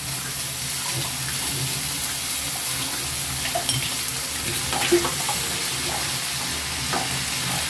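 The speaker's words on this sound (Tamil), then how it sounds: "இந்த தக்காளியும் நல்லா ஓரளவுக்கு வதங்கி வந்தால் போதும், அது வரையும் நம்ம வதக்கலாம்." Tomatoes sautéing in a pan for kara chutney, a steady dense sizzle with soft stirring scrapes and occasional light knocks, close and continuous with no talking.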